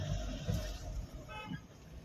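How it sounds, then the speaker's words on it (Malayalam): Car horn toots twice in quick succession on a road trip through snowy hill country near Shimla, heard from inside a vehicle over steady road and engine rumble, with faint voices. "ചേട്ടാ ഹോൺ അടിച്ചിട്ട് വരൂ പ്ലീസ്"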